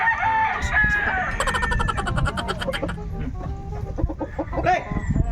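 A rooster close by clucks and crows, with several loud, drawn-out calls and rapid clucks over faint background noise.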